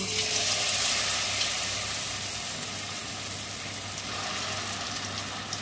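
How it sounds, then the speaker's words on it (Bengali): Stuffed teasel gourd pieces coated in cornflour and flour batter fry in hot oil, producing a steady, fairly loud crackling sizzle that continues evenly with no speech. "কর্নফ্লাওয়ার আর ময়দা দিয়ে একটা ব্যাটার বানিয়ে নিয়েছি, এইভাবে আমি এগুলো ভেজে নেব"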